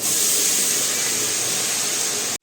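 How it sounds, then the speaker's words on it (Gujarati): Okra tipped into a hot pan with asafoetida, pounded ginger and green chillies gives a loud, dense hiss of sizzling that holds steady for a couple of seconds and then cuts off abruptly. "એમાં નાખશું આપણે હવે ભીંડો નાખશું આપણે"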